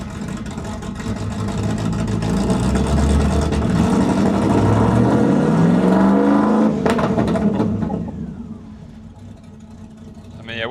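An old Land Rover more than 35 years old, its engine running very rich, rumbles steadily and loudly up close, with a rising rev near the middle before it settles back to a quieter idle.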